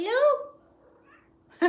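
A cat gives a drawn-out, close meow that falls away, followed by a quieter pause and the start of another meow or voice at the end.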